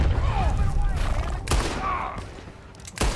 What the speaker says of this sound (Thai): ยิง